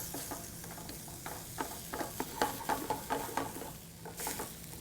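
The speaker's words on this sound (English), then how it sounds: "All right, so we're stir frying the rice, kind of for arborio, kind of sealing in the starch" Rice stir-fried in a pan for paella, a soft steady sizzle of frying broken by a series of scraping, clattering stirs at close range, with no voices.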